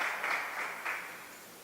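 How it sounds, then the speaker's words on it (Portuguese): An audience at a church community panel applauds for its team, a dense, even wash of clapping that fades slightly over its short length. "Uma salva de palmas para a nossa equipe."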